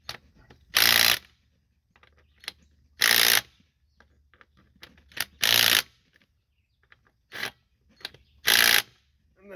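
An impact gun hammers at wheel lug nuts during front hub work, firing five short, loud, separate bursts with quiet pauses and light handling noises between them.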